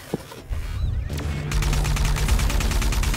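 Gunfire in the video game ArcRunner, starting with a few scattered shots and building into rapid, sustained automatic fire, loud and close.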